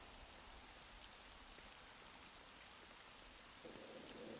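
Steady, dense rainfall from the Devil May Cry 3 video game plays as an even, continuous hiss at low volume with no voices.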